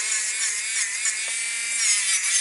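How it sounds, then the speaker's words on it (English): Acrylic nail being filed during an infill, a close, steady rasping scratch of back-and-forth strokes without a voice. "as you're filing your nail, you want to try to keep that nice shape, keep that nice apex"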